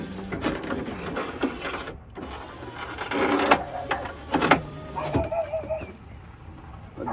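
A Nissan Frontier power window motor whirs and strains as its cable jumps the track, with grinding, clicking mechanical bursts that rise and stop, close by, and brief talk between them.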